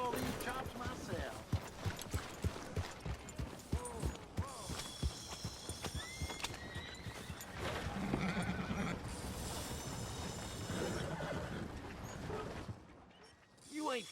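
A horse in the video game Red Dead Redemption 2 clip-clops with steady hoofbeats that give way to a neigh and whinny, along with creaking tack. Someone speaks over parts of it.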